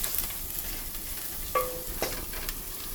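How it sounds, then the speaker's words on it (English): Ginger and garlic frying in hot oil for Indo-Chinese chilli paneer, a steady close sizzle with a couple of faint scrapes of a spoon stirring the pan. "the oil is hot and both ginger and garlic have started to brown a bit"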